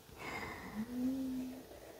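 A dog snores nearby indoors, one drawn-out rasping, droning breath that rises into a soft whine-like tone and then fades, quiet and alone.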